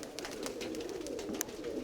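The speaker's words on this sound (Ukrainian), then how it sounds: "Підкинув я голубів." Pigeons tossed into the air, cooing and fluttering faintly outdoors, soft and somewhat distant, with brief wing flaps over a light wind-like background.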